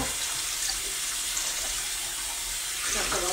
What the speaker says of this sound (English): Just gonna put tap water to that.